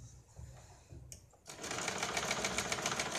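After a second or so of soft handling noises, a sewing machine starts up close and whirs steadily, stitching a cross strip onto a katori blouse.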